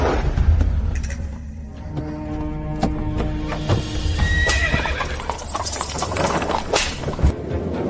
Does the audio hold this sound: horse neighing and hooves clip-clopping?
yes